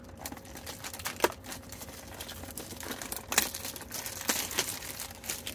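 Plastic wrapping on Pokemon tins being cut open without the usual knife, giving soft crinkling and scraping with a few sharper crackles and snaps, close and fairly quiet, with no talking.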